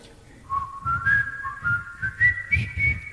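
An audience whistles a melody together at a rockabilly concert, a line of rising and falling tones over rhythmic low thumps from the band.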